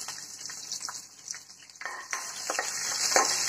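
Curry leaves, chopped green chili and garlic sauté in a pan with a soft, constant sizzle and crackle, broken by a few light spatula scrapes and clinks.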